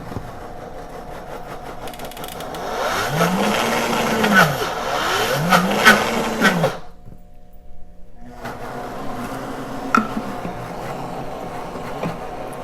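A Princess House high-speed blender works thick sunflower butter with no liquid, a loud grinding whir that labours and changes pitch as a tamper is used, then stops briefly and starts again.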